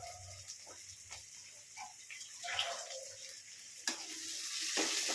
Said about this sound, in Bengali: এবার এটাকেও ভালো করে ভেজে নেব।